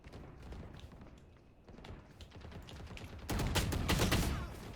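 Gunfire from the tactical shooter Valorant, played as the agent Neon, rings out as quick low shots, then a louder, denser burst of rapid fire near the end.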